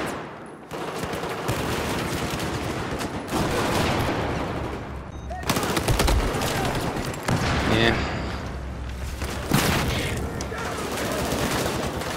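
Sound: MP7 submachine gun fire in Battlefield 4 video game

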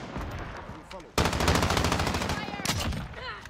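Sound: gunfire in video game Call of Duty Modern Warfare

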